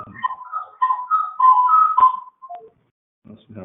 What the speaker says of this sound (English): Some kind of whistle.